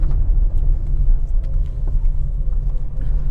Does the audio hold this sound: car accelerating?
yes